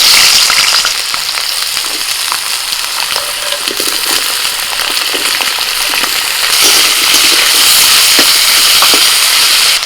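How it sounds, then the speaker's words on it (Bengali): Thin-cut potatoes drop into hot oil in a wok, giving a loud, continuous sizzle and crackle that swells near the end, with no talking. "তেল গরম হয়ে গেছে এবার সরু সরু করে কেটে নিয়ে আলু দিয়ে দিচ্ছি"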